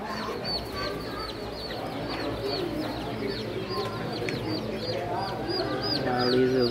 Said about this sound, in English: We're gonna get some baby chickens here.